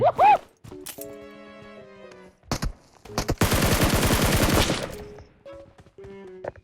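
Shotgun fire in the mobile game PUBG Mobile: a few sharp blasts early on, then a loud, dense stretch of rapid gunfire lasting over a second, with game interface tones in between.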